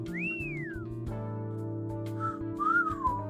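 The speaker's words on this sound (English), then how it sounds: "That was such a pitiful whistle." A synthesized whistle from the Arknights video game: a rising-then-falling whistled glide, followed by a softer second whistle, playing over a steady low musical drone.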